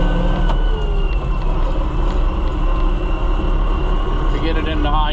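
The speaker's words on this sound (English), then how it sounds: "You gotta shift it like a manual transmission," A New Holland TN75DA tractor engine drones loudly and steadily up close, with a brief grinding rattle near the end as the gearbox is shifted toward high gear, and a voice speaks over it.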